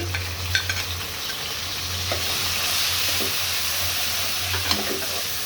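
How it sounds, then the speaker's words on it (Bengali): Shrimp drop into onions frying in a pan, setting off a steady close sizzle with stirring scrapes and light clatter, no voices. "পেঁয়াজটা কিছুক্ষণ ভেজে নিয়ে এখন আমি চিংড়ি মাছগুলো দিয়ে দিচ্ছি"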